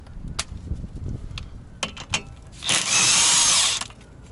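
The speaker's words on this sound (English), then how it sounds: "use this 14mm socket so I can remove this hub face and then remove these bolts" A power tool with a 14mm socket spins out hub bolts on a Toyota, giving a few short clicks and bursts before one sustained, loud whirring run near the end.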